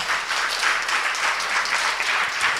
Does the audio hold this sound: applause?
yes